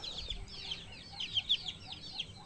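Soft, scattered clucking and chirpy calls from chickens, fairly faint with a few louder bursts near the middle, over a quiet background.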